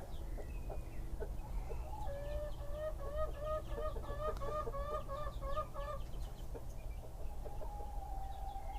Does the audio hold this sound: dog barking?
no